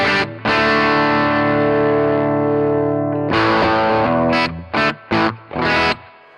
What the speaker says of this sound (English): And if I completely cut the treble on the pedal, it should get back to how we started